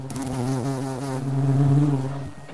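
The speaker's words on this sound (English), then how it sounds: "See bee? We see a bee." A cartoonish bee buzzing effect from a children's picture book read-aloud, a steady, loud, wavering drone lasting a couple of seconds with no talking.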